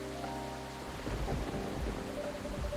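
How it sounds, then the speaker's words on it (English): Rain falls steadily while low thunder rumbles in the background, with faint game music tones over the storm. "It's rainy season for sure."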